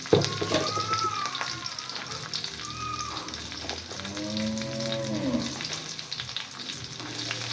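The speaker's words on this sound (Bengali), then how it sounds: "4-5টা রসুন ছিলে রেখেছিলাম, রসুনগুলো ভেজে নিই।" Peeled garlic cloves, four or five of them, frying in a pan for a garlic mash, giving a steady close sizzle with soft crackles throughout and faint kitchen noise, no talking.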